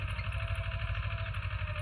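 A tractor engine runs steadily while plowing a farm field, giving a low, even mechanical chug with a constant rumble and no breaks, moderately close.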